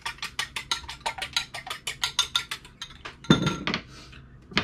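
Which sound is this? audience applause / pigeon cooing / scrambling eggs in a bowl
scrambling eggs in a bowl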